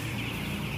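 Broiler chickens, fifteen days old, in a large closed-house poultry barn in Ciamis holding about 46,000 birds, give a dense, steady low murmur of clucking under constant ventilation noise.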